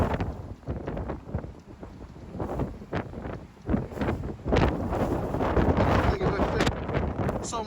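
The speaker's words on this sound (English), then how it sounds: "I hope you can hear me on this with the wind and the sand blasting past." Strong Storm Darragh wind roars across the Blackpool promenade at high tide, buffeting the microphone with loud gusts and a steady hiss of blasting sand that swells stronger toward the end.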